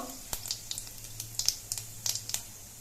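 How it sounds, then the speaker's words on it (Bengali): Whole cumin seeds frying in hot mustard oil give off sparse, faint crackles and small pops at irregular intervals over a low background hum, with no talking. "তেলের মধ্যে দিচ্ছি অল্প একটু গোটা জিরে দিয়ে এটা একটু লালচে করে ভেজে নেবো"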